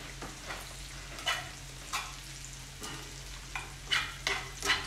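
Bacon, onions and garlic sizzle steadily in a pan for pasta carbonara while a utensil stirs and scrapes in several soft bursts, close and fairly quiet, with no voices.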